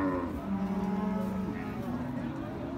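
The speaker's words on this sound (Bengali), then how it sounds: "রাজস্থানের সেই হেলিকপ্টার সিং বড় বড় গরুর কাছে। এটি সার গরু," Cattle lowing at a busy livestock market in Hazratpur, Keraniganj, a deep drawn-out moo up close over a constant crowd murmur, with voices talking in the background.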